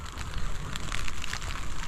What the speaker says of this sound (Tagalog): Baka lumakas pa yung ulan.